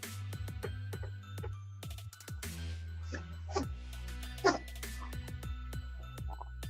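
A small dog yips, whines and whimpers repeatedly, close by, in short high-pitched bursts with brief pauses, over a low steady hum.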